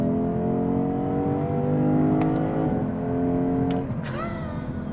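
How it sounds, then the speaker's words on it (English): A Lexus IS 500 with a naturally aspirated V8 revs hard, its engine note climbing steadily before a sharp gear shift drops the pitch and it pulls again, loud and close from inside the cabin. "listen to the shifts when I get it up high"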